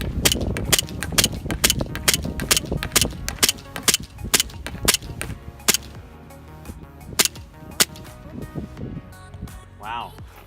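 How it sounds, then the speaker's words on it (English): A 1911 A1 blowback airsoft pistol firing BBs: a long string of sharp, loud cracks in a quick, fairly steady rhythm, thinning out toward the end where a voice is briefly heard. "let's go ahead and give 1911 A1 a shot"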